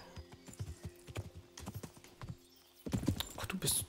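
Horse hooves clip-clop in a steady trot in the medieval game Kingdom Come: Deliverance, close and clear, then a loud whinny near the end with a faint tone underneath.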